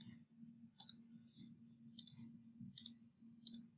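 Sharp mouse clicks sound while a player is selected in an online gifting game, five crisp, evenly spaced clicks standing out over a continuous low electronic hum.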